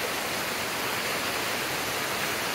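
Kasilak Bamboo Falls in New Corella, Davao del Norte, pours in a steady, dense, unbroken rush of water, loud and constant throughout with no voices.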